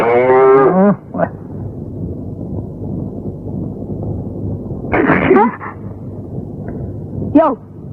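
A cow moos loudly several times, with long low calls at the start and middle and a shorter one near the end, close by against a steady background.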